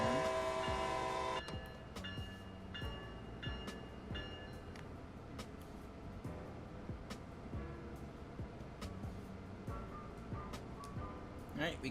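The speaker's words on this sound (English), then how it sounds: "Let's get the bell on." Bell on a SEPTA ACS-64 electric locomotive in Train Sim World 2, a steady string of regular metallic dings under a low rolling rumble of the train, with a brief tone at the start.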